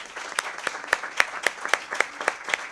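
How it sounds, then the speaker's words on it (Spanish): An audience at a talk with a writer claps, giving slow, fairly sparse rhythmic claps that sound like a small group, heard alone. "yo les pido un aplauso y le agradezco de nuevo a Ana María Súa"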